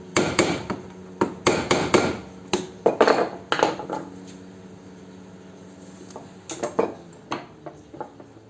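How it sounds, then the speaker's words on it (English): A chisel or screwdriver is tapped into the seam of a stainless steel electric fruit juicer, giving sharp metallic knocks in quick clusters, then a pause and a final few taps, close and fairly loud. "get a chisel or a screwdriver into the seam there, tap,"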